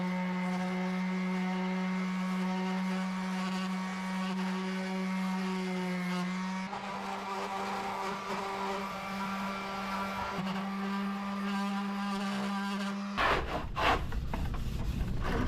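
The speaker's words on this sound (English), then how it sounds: "I'm just gonna use a little orbital sander and just go along the edge of it, being careful" An orbital sander works along the edge of a plastic Maxton Design front splitter for a 2016 Ford Focus ST, a steady whining motor drone that shifts pitch as it runs, then a harsh scraping burst at the end.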